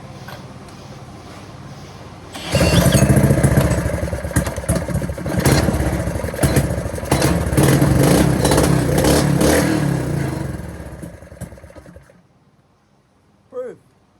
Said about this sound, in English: Proof that the engine's not destroyed.